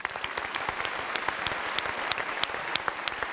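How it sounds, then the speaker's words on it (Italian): A television studio audience applauds in a steady, dense wash of claps with crisp individual hits standing out, moderately loud and without talking. "Applauso."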